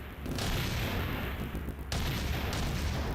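Cannon fire in a video game rings out as a dense, continuous barrage, loud booms and blasts rolling over each other with a sharp new hit near the two-second mark, no talking heard.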